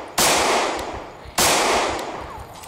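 Two loud gunshots in the Project Zomboid video game, each a sharp close blast about a second apart with a decaying tail, alone without talk.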